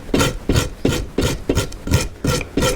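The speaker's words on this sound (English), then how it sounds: "so then you can see me filing it off" Coarse half round wood file rasping across plywood edge on a boat restoration, loud and close, with steady rhythmic strokes roughly every half second.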